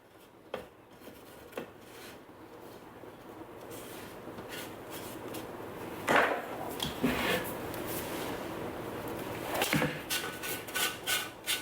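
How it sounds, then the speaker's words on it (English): A spatula scrapes pastry dough from the sides of a Thermomix mixing bowl, giving soft rubbing and scraping strokes close by. They start sparse and grow busier and louder toward the end, with no talking. "Rightio, scrape down with the spatula."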